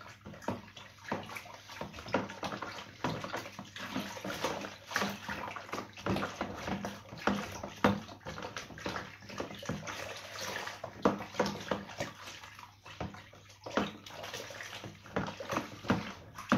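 Nettle beer mixture stirred by hand in water, a steady close sloshing and splashing that churns on without pause, alone and fairly quiet.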